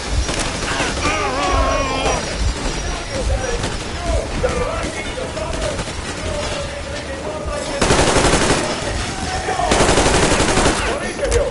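Sustained automatic gunfire rattles in the Metro Exodus video game during a firefight, dense bursts of rapid shots with louder volleys toward the end, while voices shout over the shooting.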